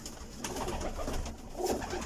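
About 50-60 pigeons coo softly against a steady background hum, several low throaty calls overlapping at moderate distance.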